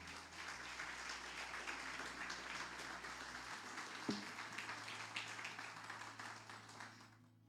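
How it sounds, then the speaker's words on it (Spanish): A church congregation at a Sunday service applauds, a dense, sustained wash of clapping that carries on for several seconds, with a faint low hum underneath and a single louder knock partway through. "denle un aplauso al Señor"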